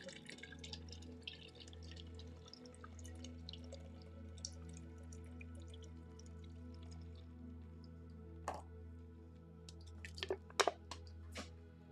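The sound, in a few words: coconut water being poured into a cup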